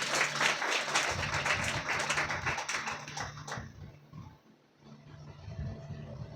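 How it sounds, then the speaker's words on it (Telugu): Applause from a church congregation fills the opening seconds, dense and fairly loud, then thins out and fades into quieter room noise with faint voices. "గట్టిగా చప్పట్లు కొడదాం."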